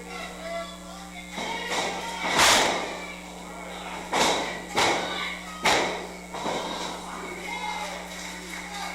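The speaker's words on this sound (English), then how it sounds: "there Phillips finally hits the German suplex" A professional wrestler drops an opponent with a German suplex in a wrestling ring at a Higher Ground event, a heavy thud on the mat standing out among several sharp slams and impacts over a steady crowd-and-commentary background.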